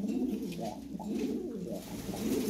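A red Lahori pigeon, a male, coos in soft, low, rolling phrases close by, repeating steadily with no talking.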